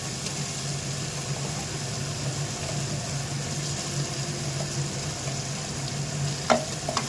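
Mutton head curry masala frying in oil, a constant close sizzle with occasional stirring scrapes and a low steady hum underneath, ending with a sharp clink.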